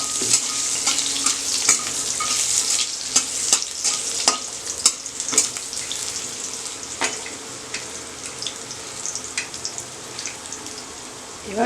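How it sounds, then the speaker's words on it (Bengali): Potatoes fry in a hot wok with a steady broadband sizzle, broken by frequent sharp scrapes and clacks from stirring, close up with no talking. "একটু আলুটা ভেজে নিচ্ছি,"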